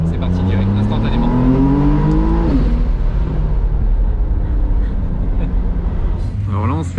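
A McLaren Artura starts with a button press, and its engine note rises steadily, then drops and climbs again in loud, close, continuous revving.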